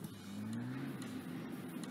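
A car driven in the video game GTA 5 gives off a steady, fairly quiet engine hum whose pitch climbs slightly as it moves along.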